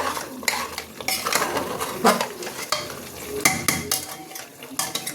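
Potatoes are stirred in a frying pan as they cook, with a ladle scraping and clinking against the metal in uneven bursts over a steady sizzle, close and fairly loud.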